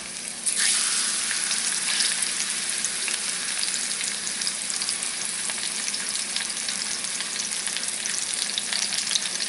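Pork chops hit hot oil in a cast iron pan, setting off a loud, close, continuous sizzle that starts abruptly and holds steady throughout, with no talking.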